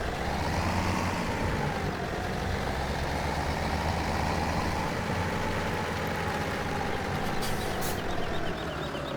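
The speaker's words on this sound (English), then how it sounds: "Let me get my tractor started." A tractor engine in Farming Simulator 17 runs at a steady, continuous low rumble with no clear start, fairly loud and constant, with a brief click near the end and no talking.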